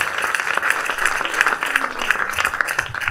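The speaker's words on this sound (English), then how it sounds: "Congratulations. Clap for Jesus Christ." A church congregation applauds in a loud, sustained burst of many hands clapping in a rapid, uneven patter, with cheers or voices faintly mixed into the crowd noise.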